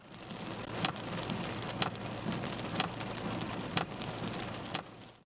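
Heavy rain pours onto the streets of Kuşadası, Aydın, during a winter downpour, a dense steady hiss broken by a few sharp louder splashes at regular intervals, with no voices.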